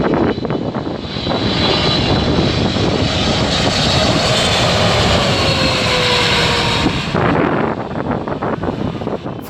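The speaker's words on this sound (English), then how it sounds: "This Boeing 777 approaching lower than usual." A Boeing 777 passes low on approach, a loud, sustained jet engine roar with broadband rumble and a descending whine, buffeted by heavy wind noise on the microphone, the sound shifting as it passes overhead.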